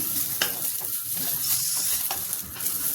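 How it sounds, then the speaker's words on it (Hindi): Taro root (arbi) frying in a pan gives a steady, close sizzle with stirring and scraping throughout, with no voices. "ये घुइयाँ हमारी पक चुकी है। बस इतना ही हमें फ्राई करना है, इससे ज़्यादा नहीं फ्राई करेंगे।"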